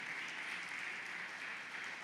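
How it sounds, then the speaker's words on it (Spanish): A church congregation claps for Jesus during a pastor's sermon, a dense, even wash of applause holding steady throughout, fairly distant and without clear voices. "Dale un aplauso al Señor Jesucristo con todo tu corazón."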